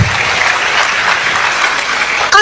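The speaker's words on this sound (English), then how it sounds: "If you want to clap for the men," Church congregation claps for the men, steady and fairly loud, with a brief voice breaking in at the very end.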